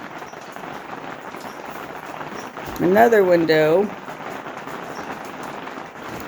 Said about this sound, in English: And the loud rain.